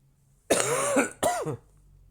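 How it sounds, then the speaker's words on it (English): Two harsh, loud coughs close by, the first longer and raspier, the second shorter after a brief pause, then quiet. "I'm gonna try and cough less."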